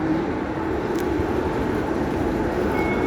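Train running through Hong Kong toward Kennedy Town, a steady close rumble of wheels and carriage noise throughout with no talk.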